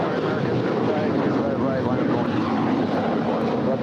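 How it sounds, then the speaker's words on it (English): An Alaska Airlines Boeing 737-900ER departs LAX for Honolulu, its jet engines making a loud, continuous broadband roar that holds steady throughout. "That was Alaska 817 departing to Honolulu. It's a 737-900ER."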